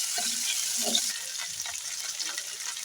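Chopped onion, green chilli and tomato fry in a hot pan for a Bengali pomfret fish curry, giving a steady, close sizzle with a few soft stirring scrapes and no talking.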